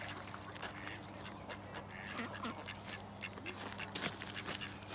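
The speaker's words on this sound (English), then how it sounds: "Oh, the coot's here. That's the coot." A coot calls from the water among ducks and geese, giving short honking and quacking notes over a busy outdoor background, with faint voices.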